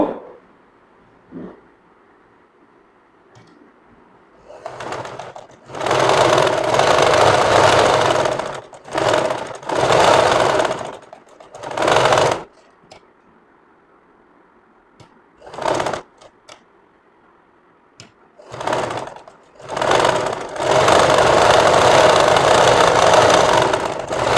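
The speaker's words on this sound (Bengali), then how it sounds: "আগে গলার ডিজাইনটার সেলাই দিব মুড়িটা সেলাই দিব" Sewing machine stitching the collar neckline of a kameez, running in several loud bursts of rapid stitching separated by short pauses, with a low hum between runs and no talking.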